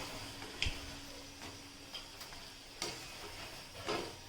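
Round gol bhaji pakoda frying in oil on a low flame, a faint, quiet sizzle punctuated by a few soft ticks and pops.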